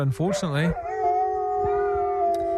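A dog howling indoors, a long, sustained, wavering tone after a brief burst of yips, with a person briefly speaking at the start.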